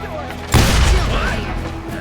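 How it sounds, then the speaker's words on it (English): Gunfire in the western video game Call of Juarez: Gunslinger, set in Lincoln, with a single loud booming blast and a rumbling decay of fire under a talking voice. "So much lead was whizzing by my head, it was like everyone in Lincoln wanted to put me in the ground."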